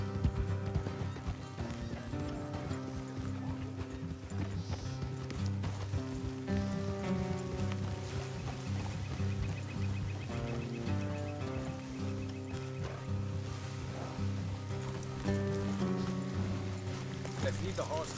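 Rhythmic horse hooves clip-clop steadily through the whole stretch in the video game Red Dead Redemption 2, mixed with a musical score and a horse's whinny.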